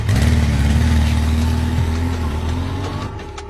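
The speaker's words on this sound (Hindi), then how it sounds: "चल चल चल, बाइक चला।" A motorcycle being ridden in a Hindi-dubbed South Indian film, with a loud, steady engine drone that pitches gently up and down and then eases off toward the end.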